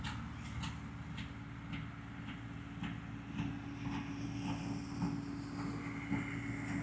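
A distant Massey Ferguson combine hums low and steady while a faint, regular clacking ticks along on top of it outdoors during a North Carolina wheat harvest.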